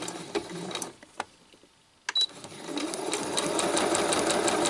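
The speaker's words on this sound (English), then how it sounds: "I'm just going to sew straight onto the next one" A sewing machine stitching Christmas place mat pieces, with short mechanical bursts and clicks, a brief pause, then a longer run of fast, steady stitching that grows louder near the end.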